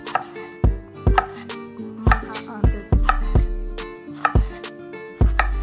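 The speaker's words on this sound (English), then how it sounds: "Nice thin slices." A knife slices vegetables thinly on a cutting board for a Trini-style jambalaya chicken and shrimp pasta, making a steady rhythm of about a dozen crisp, close chops at roughly half-second intervals, with no talking.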